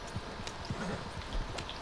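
Horse hooves clip-clop in a video game, a few soft, uneven thuds at moderate distance over a faint, steady background hiss.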